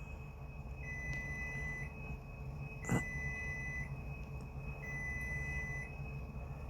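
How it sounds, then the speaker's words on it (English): A home microwave oven gives two long, steady electronic beeps a few seconds apart, with a sharp click between them over low room hum. "that's the first beep of my microwave"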